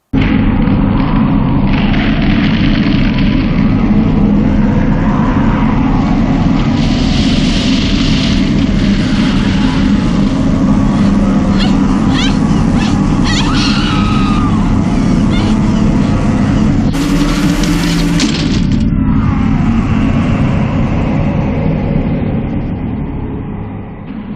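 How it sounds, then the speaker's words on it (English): A creepy whirring, drone-like sound effect from an Evil Dead horror film rumbles loud and continuous, with swelling mechanical roars and a brief harsher burst near the end. "there's that weird sort of whirring sound effect"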